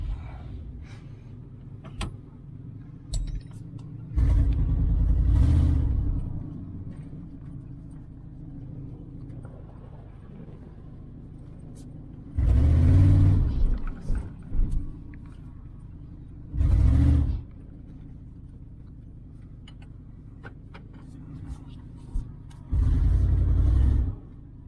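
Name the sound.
1994 GMC Stepside pickup truck engine running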